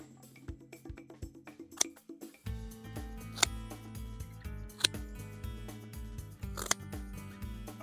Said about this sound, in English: I'm going to cut it relatively low, but just not all the way to the ground. Trying to get a nice clean cut.